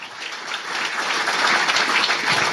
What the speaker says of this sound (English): how about a big round of applause for all the startups as well as Victoria